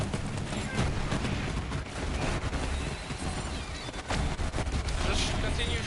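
Rapid, dense gunfire from a Moze berserker build in the video game Borderlands 3, continuous bursts of shots and explosive booms filling the whole stretch, loud and close, with a voice talking over it.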